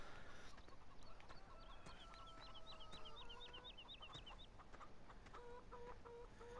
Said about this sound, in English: They do have some chickens running around the yard.